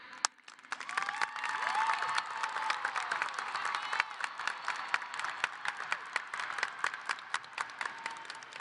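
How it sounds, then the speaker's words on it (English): A high school graduation audience breaks into sustained applause, a dense wash of many hands clapping steadily from a distance in a large venue, with scattered louder claps and faint cheers. "Please give a special round of applause for Mr."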